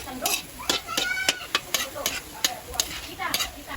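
Ground pork stirred in a little simmering broth in a pan, with a soft bubbling sizzle under a run of repeated scraping strokes, close and moderately loud; a faint tone whines in the background.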